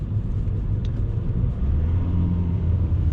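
A Hyundai Accent Blue with a 1.6 CRDi 136 hp diesel engine and manual gearbox is heard from inside while driving on a rough road: a steady, loud low rumble of engine and road noise, continuous throughout with no talk.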